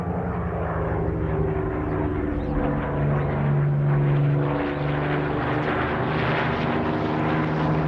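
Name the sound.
Spitfire aircraft flying aerobatics overhead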